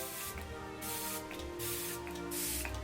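Facial setting mist spray bottle misting, three quick hissing spritzes in a row, close and fairly quiet with short pauses between them.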